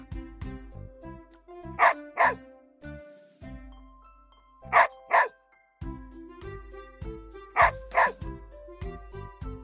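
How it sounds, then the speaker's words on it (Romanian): Two dog barks repeat three times in pairs, standing out over a bouncy musical backing with steady beats. "Câinele face ham, ham!"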